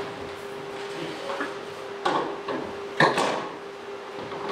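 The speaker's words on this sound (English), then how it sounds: "is to remove the manual mirror cover." Removing the manual mirror cover from a PlaneWave CDK24 telescope makes a few soft knocks and scrapes, two clearer bumps among them, over a steady low hum, close by and without speech.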